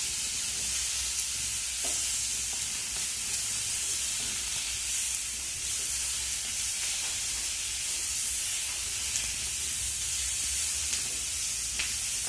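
Paneer cubes being stirred with vegetables in a hot pan, a steady close sizzle and frying hiss running throughout with faint scraping of the spoon, no voices.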